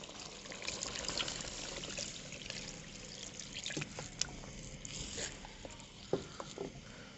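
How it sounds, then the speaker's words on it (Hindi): Water poured from a height into a pot of mutton korma gravy, a soft steady splashing trickle running for several seconds with a few brief clinks and taps of the pot or utensil, fairly quiet and close. "तो मटन को गलाने के लिए इसमें हम 1 लीटर पानी डाल देंगे।"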